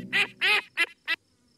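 A cartoon duck quacks four times in quick succession, loud and close, with short gaps between the nasal calls and no talk over them.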